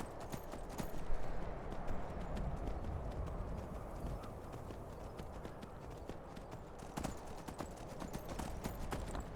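Horse hooves clip-clop in a steady, brisk rhythm while riding in the video game Skyrim, with faint movement noise and no voices.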